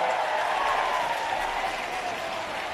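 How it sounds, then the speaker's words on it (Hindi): Sustained crowd applause at a Bahujan Samaj Party political gathering, dense and steady throughout, a large group clapping at once with no voices standing out. "हम सभी जोरदार तालियों के साथ माननीय बहन जी का स्वागत, अभिनंदन वंदन करने का काम करें।"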